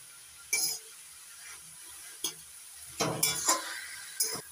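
Red amaranth greens with salt and two green chilies are stirred in a pan, a quiet background sizzle with a few separate scraping and clinking strokes and no talking.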